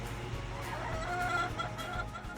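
Chickens cluck softly inside a coop, a few close birds murmuring and chattering over a low, steady background hum.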